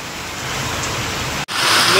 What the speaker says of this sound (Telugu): మండలాల్లో శుక్రవారం మధ్యాహ్నం ఉరుముల మెరుపులతో కూడిన వర్షం కురిసింది.